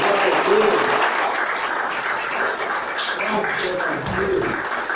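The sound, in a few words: audience applause in church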